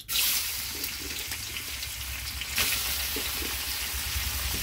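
Shrimp fry in hot oil in a wok with a steady, loud, close sizzle that holds evenly throughout, with a sharp swell near the start and another midway.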